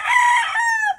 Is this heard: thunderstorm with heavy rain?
no